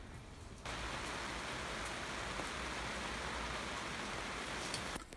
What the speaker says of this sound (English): we're going to have to do something in the boat today while the rain comes down